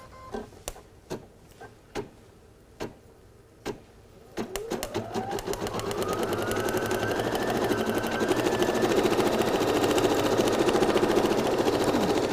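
An embroidery machine stitching an embossed rose design on a hat: a few spaced mechanical clicks first, then the motor spins up with a rising whine into steady, fast, loud rhythmic stitching that continues to the end.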